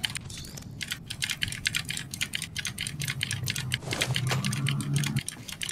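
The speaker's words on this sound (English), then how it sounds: "Keyboard tuh lebih nyaring dari keyboard gue ya." Rapid clicky typing on a loud computer keyboard during an Apex Legends match, dense irregular keystrokes close to the mic, with a low game hum rising underneath toward the end.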